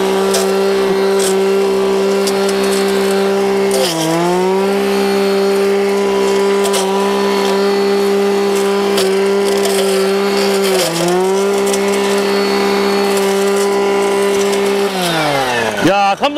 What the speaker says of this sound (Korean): 50cc가 넘는 예초기는 과연 어떤 성능을 낼까 바로 가서 또 제가 테스트를 한번 해보겠습니다